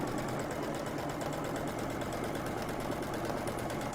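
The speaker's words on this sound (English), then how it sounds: "So I'm just sewing on my line here." A sewing machine runs steadily as it stitches a shirt collar along a marked line, a continuous, even mechanical whir at a fairly quiet level with no pauses.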